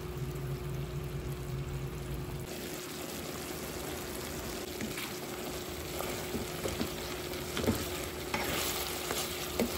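Ripe bananas cooking in a pot, a bubbling, sizzling simmer with occasional stirring scrapes, steady and close, no talk.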